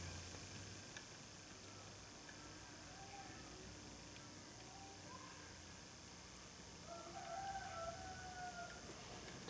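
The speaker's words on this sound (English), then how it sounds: "Excuse the cockerel." A cockerel crows at a distance, faint and intermittent, over steady outdoor background noise.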